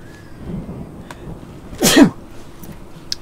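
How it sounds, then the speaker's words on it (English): A single loud, close human sneeze bursting out abruptly midway, preceded and followed by quiet background sounds. "I'm gonna sneeze"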